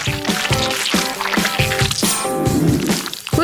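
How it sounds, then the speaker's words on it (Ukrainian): Thick Nutella is poured into a chocolate mold, giving close, wet squishing and dripping sounds in quick, uneven bursts. "Заливаємо знову нотелою."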